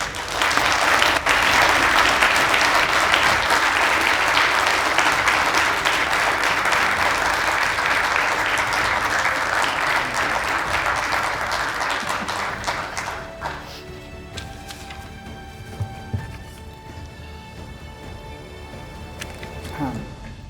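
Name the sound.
audience applause at hall of fame induction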